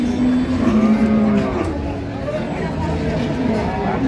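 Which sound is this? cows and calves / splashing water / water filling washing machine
cows and calves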